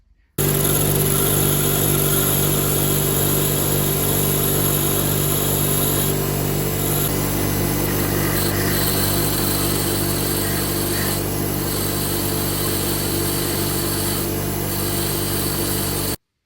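A point is ground on a bench grinding wheel, the workpiece held parallel to the wheel while its angle is changed, giving a steady loud motor whine with tonal hum and faint shifts in contact noise throughout.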